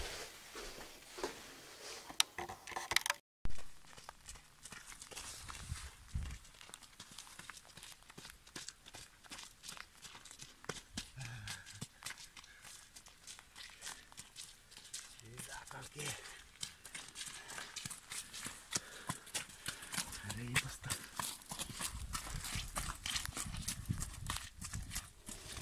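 Horses walk at a stable, their hooves clip-clopping in a steady, fairly close rhythm across the whole stretch, with a brief handling noise near the start.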